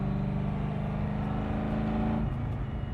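An LS V8 engine in a car with power steering revs hard at close range, a loud, deep and steady growl that dips in pitch near the end.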